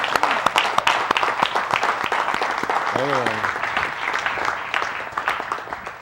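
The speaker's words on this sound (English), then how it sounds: "Give Miss Shahua a hand clap." A synagogue congregation claps, giving sharp individual hand claps in a loose, uneven patter over room noise, with a brief voice breaking through midway.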